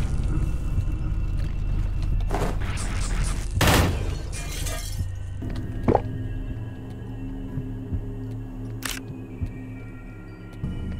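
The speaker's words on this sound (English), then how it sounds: "I guess that's explosive ammo?" Gunfire with explosive ammo in a first-person shooter: a few sharp, bursting impacts and crackling blasts spaced through the clip, the loudest near the middle, with quieter rumble and clatter between them and no talking.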